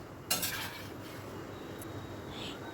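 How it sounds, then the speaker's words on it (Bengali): A utensil scrapes and knocks against a pot while fish curry with potatoes is stirred, one sharp metallic clatter near the start followed by softer scraping over a quiet background. "আবারও সব কিছু ভালো করে মিশিয়ে নিলাম।"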